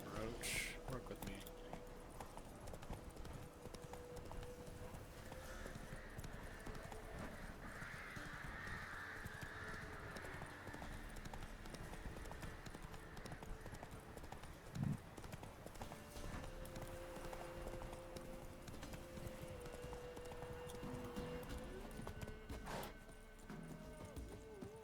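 Roach, the horse in The Witcher 3 video game, gallops with a steady run of hoofbeats through the whole stretch, set under a man's ongoing speech and game sound.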